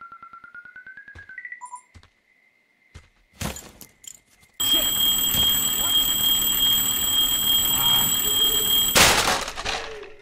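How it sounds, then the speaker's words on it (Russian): A loud electronic alarm on a strange backpack in the video game Firewatch shrills continuously for about four seconds and then cuts off abruptly. Quieter beeps and ticking come before it. "но на ней была сигнализация, думаю, из-за нее приемник так бесился"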